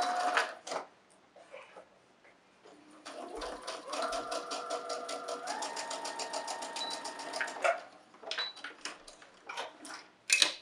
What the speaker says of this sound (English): Sew right along that 1/4 inch line.